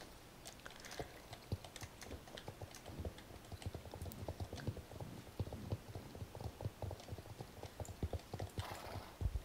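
A horse clip-clopping in the online riding game Star Stable Online, with a rapid, even run of hoof beats close by that keeps a steady rhythm throughout, alone without talk.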